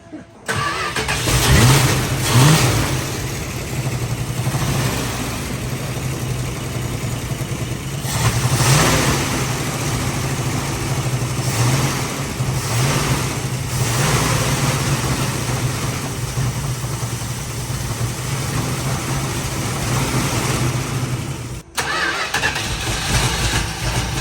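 A 1973 Dodge Challenger, oil-soaked after a rescue, cranks and catches, then runs loudly and steadily on fuel fed from a bottle. It stays close and continuous, with slight surges and a short dip near the end.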